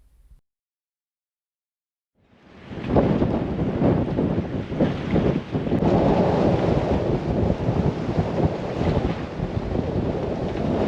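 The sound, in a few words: strong wind on a sailboat at anchor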